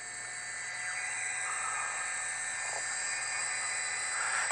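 Steady, droning helicopter rotor noise holds throughout, a constant mechanical whine and hum heard from a distance without any talking, above a police chase of a stolen Dodge Ram.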